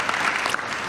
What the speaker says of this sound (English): Big hand of applause for Carnegie.